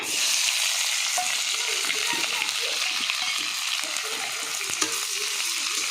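Onions sizzle steadily in hot oil alongside a bay leaf, a dense, even frying hiss that fills the pan close up, with faint scrapes of stirring now and then and no talk.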